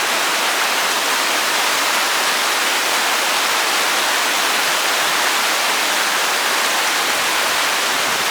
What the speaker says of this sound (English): That stick being knocked up and down by the force of the water.